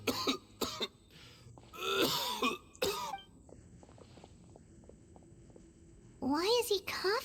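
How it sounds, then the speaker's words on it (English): A man coughs in harsh, spaced bursts with throat clearing between them, close and fairly loud, a short lull of quiet breathing, then another hacking fit. "Why is he coughing so much?"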